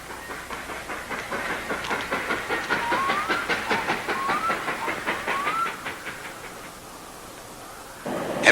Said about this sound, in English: That train went right through us.